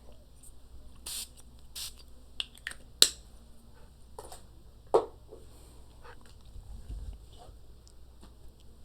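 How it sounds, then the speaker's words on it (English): A few short, hissing bursts of a spray bottle, spaced out over a quiet background, with a couple of sharper clicks between them. "I have to spray."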